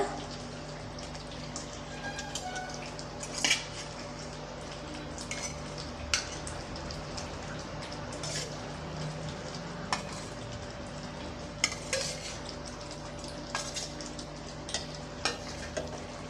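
Egg masala curry is stirred in a pan, with soft scraping strokes over a steady low sizzle. Occasional sharper utensil clinks break through, close and unhurried, with no talking.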